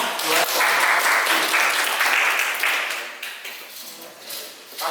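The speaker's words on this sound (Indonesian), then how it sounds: "Excellent, tepuk tangan." Applause from a classroom audience at a vocational high school, a dense steady wash of clapping that runs the whole time and fades slightly toward the end, with voices mixed in.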